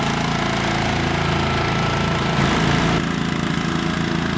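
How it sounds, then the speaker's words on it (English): A top dresser machine runs steadily on a golf green during fall aerification, giving a continuous, loud, mid-pitched engine drone that never lets up. "Here's Brett Dobers running our second top dresser"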